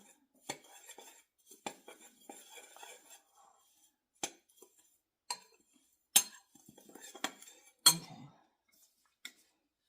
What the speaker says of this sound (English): I'm just going to stir it really well, get everything mixed in.